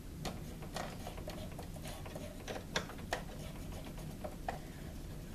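A household sewing machine's mechanism turned slowly by hand during cleaning and oiling, an irregular series of soft ticks and ratcheting clicks, close and fairly quiet, with no voices.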